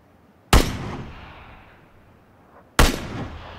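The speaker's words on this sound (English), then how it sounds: "Someone's already shooting at him." Two sharp, loud gunshots crack in PlayerUnknown's Battlegrounds about two seconds apart, each with a sudden attack and a long fading echo tail, with no talk over them.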